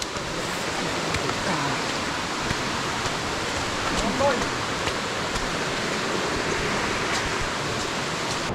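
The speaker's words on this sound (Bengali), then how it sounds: "কত নিচে ঝিরি বয়ে যাচ্ছে প্রবল স্রোত ধারায়।" Strong mountain stream rushing far below Muppochora and Nakata waterfalls in Belaichhari, Rangamati, a dense continuous wash of flowing water, steady and unbroken, heard from a height.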